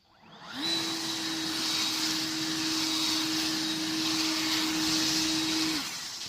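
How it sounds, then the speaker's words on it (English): Ryobi 40V battery backpack leaf blower running in regular mode to blow leaves, a loud, steady, high-pitched whine that spins up and holds level for several seconds before starting to wind down, with no talking. "So now we're going to try to blow some leaf around. I'm going to use just the regular mode"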